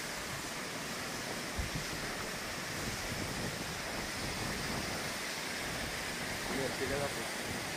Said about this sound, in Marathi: एक नंबर धबधबा इथं पाणी आलेले धबधब्याला